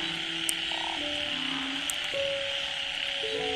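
Toads call with sustained tonal croaks and trills in a wet outdoor setting beside a chicken coop after heavy rain, several overlapping calls sounding close over a steady background hiss.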